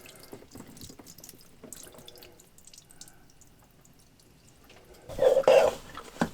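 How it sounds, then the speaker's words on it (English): Water drips and trickles from an RV toilet's water supply line, a faint patter that turns into a louder, close splashing run near the end. "A lot of water dripping."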